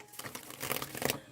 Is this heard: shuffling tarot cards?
yes